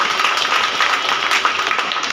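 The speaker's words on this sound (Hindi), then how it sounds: "आप तालियां जोरदार बजाना है" An audience at a Shrimad Bhagavat Katha religious discourse at the Shri Radha Raman temple claps in a steady, dense wash of applause that sounds fairly close and even throughout, with no pauses.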